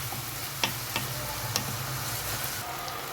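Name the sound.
vegetables and spices being stirred and fried in a pan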